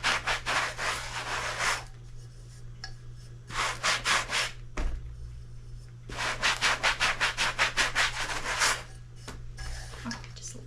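Sandpaper rubbed over a cheap junk vase to take off small splinters: rhythmic scratchy strokes in three close bursts separated by short pauses, with no talk over them.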